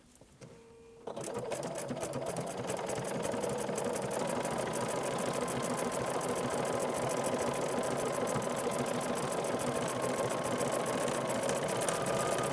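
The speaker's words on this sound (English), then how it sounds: "So the decorative stitch that I'm doing goes back and forth, but the machine is going to do all the work" A sewing machine stitches a back-and-forth decorative pattern on fabric, starting after a brief quieter moment and then running in a fast, even mechanical chatter close by.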